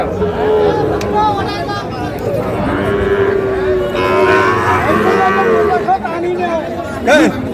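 Sahiwal bulls and calves at a traditional cattle market in Ambari moo loudly and repeatedly, close by, while traders haggle and a crowd talks all around.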